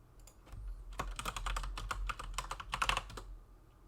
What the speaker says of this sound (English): now we're going to start by typing in our username and password we did before